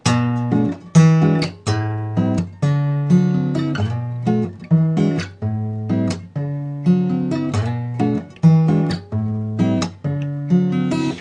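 Acoustic guitar strums a looping cycle-of-fifths progression (iii–vi–ii–V–vii), one chord per beat-group in a steady rhythm, each strum ringing and decaying before the next, close and clear with no talking.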